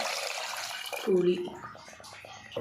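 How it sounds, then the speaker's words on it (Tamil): Tamarind water is poured into a simmering curry, a short splashing pour in the middle after someone talks, then quiet kitchen sounds. "புளி தண்ணியை ஊற்றியாச்சு"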